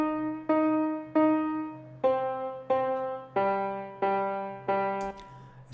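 Piano notes from the chorus of an AI-generated song play as a slow, even sequence of about nine separate struck chords, each decaying before the next, close and clear with no other instruments.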